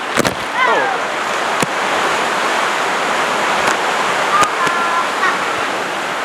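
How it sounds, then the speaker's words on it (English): Water from sprinklers sprays steadily onto a raft on the Kali River Rapids ride, a loud, broad hiss of spray and splashing that continues throughout, with a few sharp knocks and brief voices. "Sprinklers in there."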